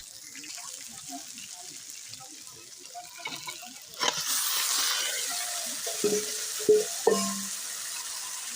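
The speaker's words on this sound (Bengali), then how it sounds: "এদিকে আলু ভাজাও প্রায় কমপ্লিট হয়ে এসেছে" Potatoes frying in a pan at a home cooking gathering, a steady close hiss that swells louder halfway through, with scattered clinks and a few brief voices in the background.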